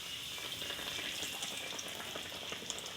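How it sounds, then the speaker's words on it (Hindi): Bread kachori fries in hot ghee with a continuous, even sizzling hiss at moderate loudness, close by and with no voices. "घी गर्म हो चुका है, अभी इसमें मैं डालती हूँ"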